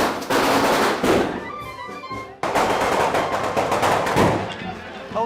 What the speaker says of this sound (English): Oh, they love letting off their bangers, those boys.